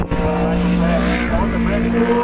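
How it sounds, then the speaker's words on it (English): Superbike engines roar loud and close during racing at Kirkistown, a continuous high-revving drone sweeping past with a shifting pitch, under commentary. "As the Superbike comes through."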